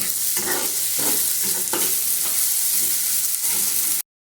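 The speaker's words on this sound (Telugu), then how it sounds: "ఇప్పుడు ఈ ఉల్లిపాయ ముక్కల్లో కొద్దిగా సాల్ట్, కొద్దిగా పసుపు కూడా వేసుకుని కలుపుకోవాలి." Onions fry loudly in a pan while salt and turmeric are stirred in. A constant hiss of sizzling carries repeated scraping stir strokes, then cuts off abruptly after about four seconds.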